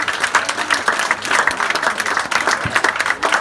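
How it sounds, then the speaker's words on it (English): Sustained applause from the audience at an under-10s youth football club presentation evening, dense continuous clapping filling the room at a steady, fairly loud level with no talking. "But big round of applause for Tanya and all their efforts this season."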